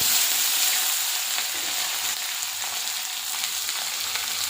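Green chilli, ginger and curry leaves fry in hot oil in a pan with a dense, even sizzle that stays loud and constant throughout, with only faint stirring clicks.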